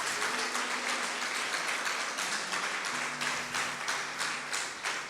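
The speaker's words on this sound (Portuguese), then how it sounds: "Vamos aplaudir o Senhor por isso" A church congregation claps together during a prayer service, the sound dense and steady with faint rhythmic beats throughout, a low sustained tone running underneath.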